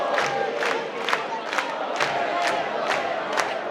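Villagers at a Saint Roch procession in Spain cheer and shout together as a loud outdoor crowd, with rhythmic swelling chants rising about twice a second.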